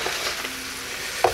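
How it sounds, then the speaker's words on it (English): Pork chops for honey garlic pork sizzle steadily in a hot pan, a broad continuous hiss with a brief louder clatter near the end as they are set back in. "Now we're going to add these pork chops back in here"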